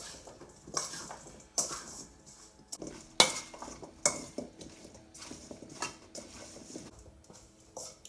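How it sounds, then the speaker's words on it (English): Spoon scraping and clinking in a pan while chicken with ranch seasoning is stirred, irregular metallic taps and scrapes close up, moderately loud. "And then I'm just going to stir it."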